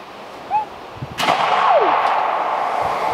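A rocket fires for spray-can and acrylic rocket brush art, a sharp loud blast followed by a sustained whooshing roar trailing off, with no talk.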